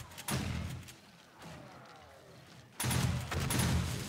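Blasts from a shotgun turret in the survival game 7 Days to Die on horde day, two loud booming bursts separated by a quieter stretch of rumbling background.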